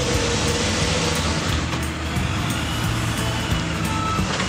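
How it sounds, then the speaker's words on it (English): A yellow backhoe loader scraping leftover asphalt on a road job gives off a loud, continuous engine roar with heavy mechanical rumble and faint intermittent beeps, nearby and without talk. "The yellow backhoe loader scrapes up any extra asphalt."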